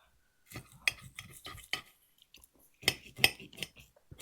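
A butter knife saws through steak on a plate during a steak and lobster meal, giving scraping, clinking cutlery strokes in bursts with a couple of sharper clinks, close and fairly quiet.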